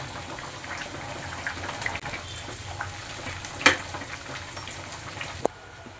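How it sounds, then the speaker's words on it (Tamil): Three cups of water are poured into a pot of rice for mushroom biryani, making a soft, steady gush with a few faint clinks of the pot near the end. "3 கப் தண்ணி ஊற்றிக்கலாம்"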